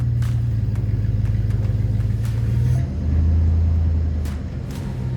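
A heavy 1993 Chevrolet S10 truck engine rumbles under load, its low drone shifting pitch midway as it strains, with a few sharp knocks and clanks over it.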